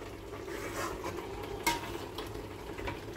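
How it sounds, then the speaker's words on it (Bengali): Egg masala cooks in a pan with a splash of water added, giving a soft, steady sizzle and bubbling with a faint scrape of stirring, close and quiet, without talk. "ডিম কষার মধ্যে আমি একটু পরিমাণ মতো জল দিলাম, জাস্ট একটুখানি, যাতে লেগে না যায়"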